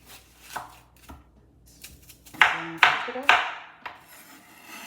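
A knife chops through watermelon on a board, a few quiet cuts followed by three louder, crunchy strokes, close up.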